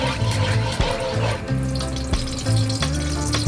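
Cooking oil from Baguio heats in a kawali wok for a sardine and noodle dish, sizzling steadily throughout with a few soft clatters of the pan, and no one speaking.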